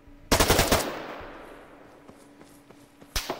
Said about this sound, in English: a lot of the weapons fire coming from my guys have been from an AR